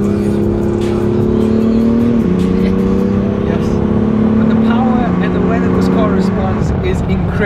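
BMW M2 engine accelerating, a strong steady exhaust drone climbing in pitch through the gears with two audible shift drops, loud and close throughout, with a voice talking faintly over it.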